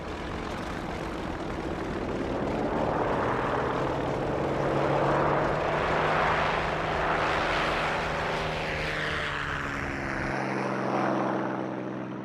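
WWII American carrier aircraft, SBD dive bombers and Devastator torpedo bombers, droning through the sky on propeller engines; a loud, steady roar that swells gently and fills the whole stretch, with no voices.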